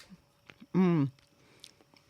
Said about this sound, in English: they can't stand the sound of chewing